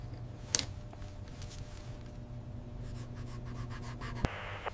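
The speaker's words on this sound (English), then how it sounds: "The quiet, tense sound of footsteps and the rustle of paper." Paper rustling and soft scratching in a quiet room, with a few light sharp ticks and crinkles, close and faint, and a brief louder rustle near the start.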